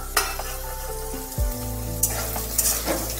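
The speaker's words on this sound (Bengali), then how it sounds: "আলু বেশ একটু ভাজা ভাজা হয়ে গেছে।" Potatoes fry with salt in a kadai over a medium gas flame, a steady close sizzle with a few clinks of stirring, no voices.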